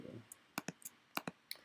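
Fingers tap on a computer keyboard in a short burst of separate, crisp clicks, close and fairly quiet, with uneven spacing between keystrokes.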